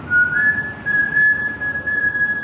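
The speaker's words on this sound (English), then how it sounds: "The whistling." A single person whistles a sustained, steady tone with slight pitch glides, clear and close, with faint background noise.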